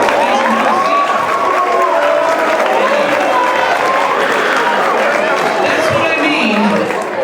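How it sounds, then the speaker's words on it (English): Audience applause at a talk on bullying, a dense continuous clapping with crowd murmur and some cheering, loud and sustained, fading slightly at the end. "Give them both a great big round of applause."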